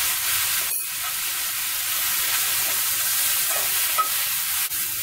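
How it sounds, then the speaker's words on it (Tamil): Spinach leaves are stirred and sautéed with softened onion in oil in a pan, giving a steady close sizzle with occasional scrapes and clinks of a spatula, no voices. "இப்போ வந்து ஸ்பினாச்சை வதக்கிடுவோம்"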